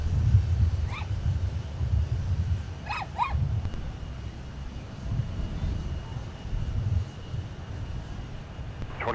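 An airliner rumbles low and steady while landing at Minneapolis–Saint Paul airport, heard from a distance outdoors, with a few crow caws breaking in near the start.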